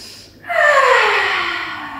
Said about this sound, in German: Tief einatmen.